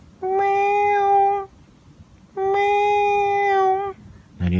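A cat meows twice, long drawn-out calls separated by a short pause, clear and close, with a brief noise right at the end.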